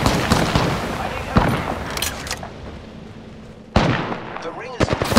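Gunfire in the Apex Legends battle royale game: sharp shots and bursts from a firefight in the first half, then a fresh volley of cracks near the end, with a voice talking over it.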